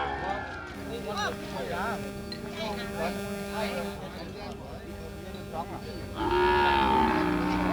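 Water buffalo on a farm low and moo amid steady background hum and people talking, with one louder, nearer moo rising toward the end.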